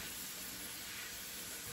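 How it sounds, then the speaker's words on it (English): Meat and minced garlic sautéing in a pan for an oyster and sausage dressing, giving a steady, faint sizzling hiss with no break. "So now I'm just going to let this here saute up in here."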